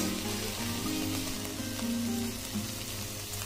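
Chilli, coriander and garam masala powders sauté in oil in a pan for a chena and peas masala curry, a steady close sizzle and crackle that continues without a break, with no talk over it.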